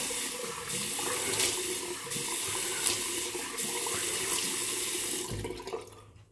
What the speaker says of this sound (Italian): Sciacquiamo, acqua fredda a questo punto.